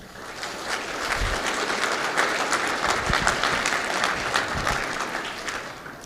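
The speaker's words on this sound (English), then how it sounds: "Please welcome me in giving ourselves a round of applause" Sustained applause from the audience at an annual economic development meeting, steady and dense clapping that fills the room for several seconds at even strength, with no voices over it.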